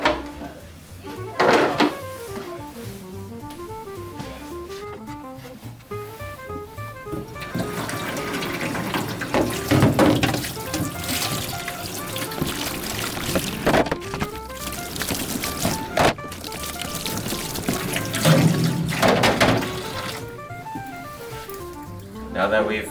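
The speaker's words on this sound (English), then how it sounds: "let's put them back into the sink and rinse them thoroughly." Tap water running into a darkroom sink as photo developing trays are rinsed, a steady rushing flow broken by hollow knocks and clatters of the trays, close by, with people talking at times.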